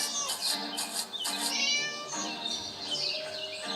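Several plaintive meows from a cat in the video game Scary Teacher come in quick succession, close and prominent, over a faint game background with no talk.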